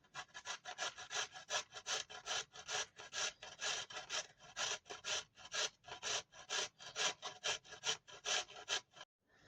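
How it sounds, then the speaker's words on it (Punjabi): Carrot and cauliflower are rubbed over a hand grater in a fast, even rhythm of rasping strokes, about two or three per second, heard close and alone for nearly ten seconds before a short pause. "ਚਲੋ ਜੀ ਗਾਜਰ ਤੇ ਗੋਭੀ ਨੂੰ ਆਪਾਂ ਕੱਦੂਕਸ਼ ਕਰ ਲਿਆ"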